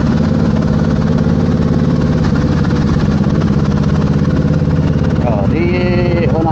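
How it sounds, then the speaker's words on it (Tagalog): A Kawasaki Z650 motorcycle engine drones steadily while riding through city streets in Barcelona, loud and close throughout, with a rising rev and a higher whine near the end and faint voices mixed underneath. "maingay yung moto natin"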